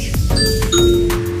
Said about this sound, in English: as soon as I talk about the doorbell, someone is at front door.